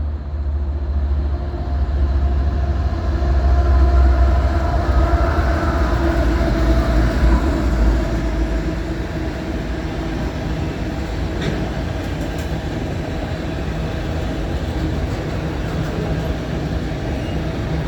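A long CSX autorack freight train rumbles past nearby heading eastbound through Pittsburgh, Pennsylvania, a steady low roar with faint rhythmic clatter of wheels on rails, gradually easing but continuing throughout.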